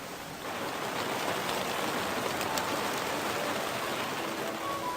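Steady rain pours on a porch roof and terrace around a bench where people shelter after parking a motorbike, a dense, even hiss that fills the whole clip with no talk over it.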